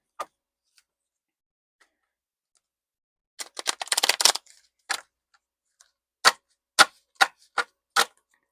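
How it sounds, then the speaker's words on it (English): A deck of tarot cards is shuffled in a quiet room. After a lone snap, a quick riffling burst follows, then several separate sharp taps and flicks as the cards are squared and handled. "I'm going to shuffle again."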